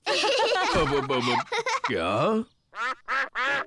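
Cartoon ducks in Peppa Pig quack in three short, nasal, voiced bursts near the end, following animated character speech.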